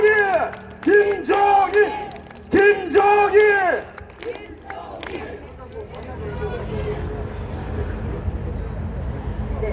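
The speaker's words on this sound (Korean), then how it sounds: "여러분 다시 한번 김종인을 외쳐보겠습니다" A rally crowd chants the name Kim Chong-in in loud, rhythmic bursts, several repeated shouts in unison, then dissolves into a broad roar of cheering and applause.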